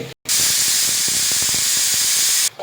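Hot water poured into a sizzling pan of mutton curry gives a sudden loud, steady steam hiss that stops abruptly, with a brief clatter just before it starts.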